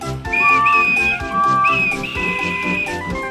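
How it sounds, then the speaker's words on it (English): A loud, sustained steam engine whistle blows in two long tonal blasts over busy music, with a cheerful, toy-train character. "And he blew his whistle."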